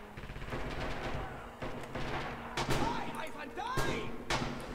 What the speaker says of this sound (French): il y a des explosions de partout